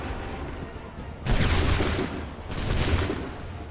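Musket volleys in Assassin's Creed III, two loud rolling fusillades of massed gunfire crackling out together, the second following about a second after the first, over faint background noise.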